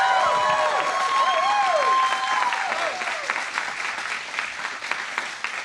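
An audience claps and cheers loudly with whistles rising over the applause at first, then the clapping continues dense and steady before thinning slightly.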